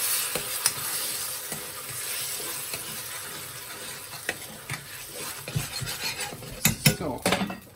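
Risotto rice and stock sizzle in a pan while a spoon stirs and scrapes, with soft continuous frying hiss broken by irregular clinks and knocks that grow busier toward the end.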